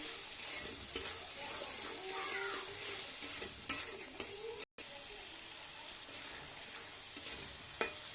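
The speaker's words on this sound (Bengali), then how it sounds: "চিংড়ি মাছটা ভেজে নিচ্ছি, পেঁয়াজ বাটাটা দিয়ে দিচ্ছি, মশলা করে সব দিয়ে দিচ্ছি" Shrimp fry in a pan with onion paste and spices, giving a steady hiss and sizzle under scattered stirring and clinks of utensil on pan, close at hand with one brief dropout.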